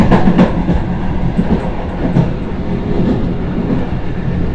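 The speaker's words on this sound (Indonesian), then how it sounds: "ini kereta api Tegal Bahari persiapan melintas stasiun Cikampek." The Tegal Bahari passenger train rumbles past nearby at Cikampek station in Indonesia, loud and steady, with rhythmic wheel clatter over the tracks throughout.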